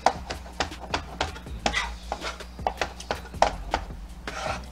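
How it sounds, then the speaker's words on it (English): A knife chops fresh dill, stems and all, on a cutting board in quick, irregular strokes, close and distinct against a quiet kitchen background. "We're gonna take probably about 1/4 of the dill, chop it up."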